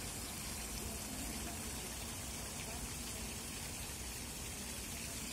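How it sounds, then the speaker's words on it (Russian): Waterfall at the Pokrovsky women's monastery in Moscow, a steady broadband rush of falling water that stays even and continuous throughout, fairly close, with no clear voices over it. "Водопад."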